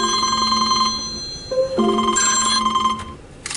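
A telephone rings with a repeating electronic tonal ring in short bursts, fairly close and clear, with no talking.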